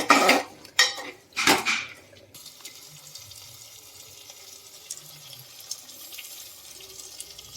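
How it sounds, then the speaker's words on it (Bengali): Water from rinsing a spice bowl is tipped into a pot of mutton curry: a few loud clattering bowl knocks and splashes at the start, then a quiet trickle and faint kitchen noise, with no voices. "আমি এই মশলা ধোয়া বাটি ধোয়া জলটা আমি দিয়ে দিচ্ছি"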